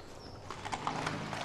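A horse walking at a slow pace on a hard road, hooves giving a steady, fairly quiet clip-clop rhythm against a low outdoor background.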